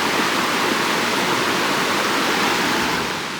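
A stream cascades down like a gradual waterfall on a landscape near Great Basin, a loud, steady, broadband rush of water that stays constant throughout and eases slightly at the end.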